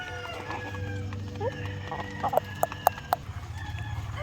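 Free-range laying hens cluck and call around a farm yard, a busy scatter of nearby clucks with a few sharp louder calls over a steady low hum.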